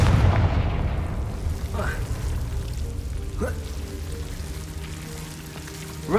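Confringo spell from Hogwarts Legacy detonates amid a busy game soundscape, a continuous deep booming rumble with a few short rising whooshes layered over steady low background noise.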